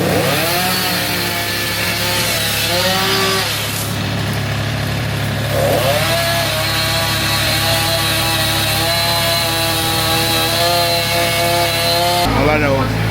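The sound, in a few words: chainsaw cutting wood near a house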